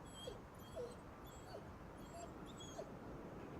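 Faint, sparse dog whimpers and little yips from a dog in the video game Ghostwire: Tokyo, a few brief cries over steady ambient game noise, with no talking.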